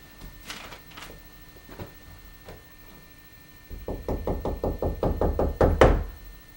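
A voice tells a Three Little Pigs bedtime story while scattered soft knocks on a door give way to a fast run of louder, evenly spaced raps, close and clear.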